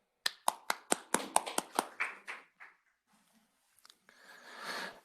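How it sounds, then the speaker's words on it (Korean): A small policy forum audience claps for a presenter: about a dozen sharp, close claps in quick succession that thin out and fade within three seconds, followed by near silence, a few faint taps and soft breathy rustling. "그러면 김태균 차장님의 발표를 박수로 청해 듣도록 하겠습니다"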